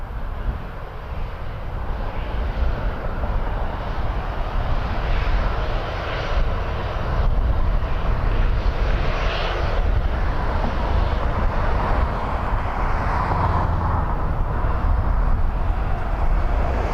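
An Air Canada Airbus A320-200 jet departs Toronto Pearson at night, its engines a steady, loud broadband roar that swells slightly and holds throughout, with no talk over it.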